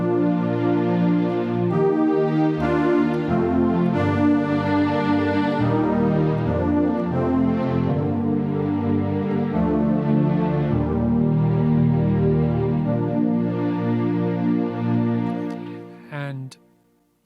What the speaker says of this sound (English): So I've got the CZ brass tone that we just created, layered with some strings.